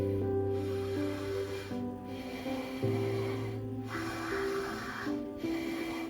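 Forceful breaths pushed out through one nostril during a meditation breathing exercise, repeating in a steady rhythm of about four broad bursts, close and moderately loud over sustained background music.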